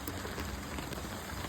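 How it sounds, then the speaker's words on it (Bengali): Heavy rain pours onto lotus plants, a dense, steady patter and hiss that fills the whole moment, close and constant with no voices. "বৃষ্টি শুরু হয়ে গেছে, অনেকটাই বৃষ্টি পড়ছে।"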